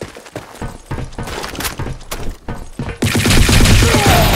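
Gunfire from the BlackShot shooter game crackles in rapid bursts and single shots, loud and close, ending in a dense sustained volley with a shattering edge.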